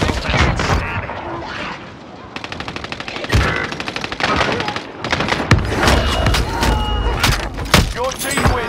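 Rapid automatic gunfire and single shots crackle through a Call of Duty: Modern Warfare match, with long machine-gun bursts, thuds and impacts layered together and radio voices talking over the fight.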